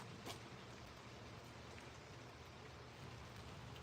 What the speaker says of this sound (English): The rain's going to a drizzle.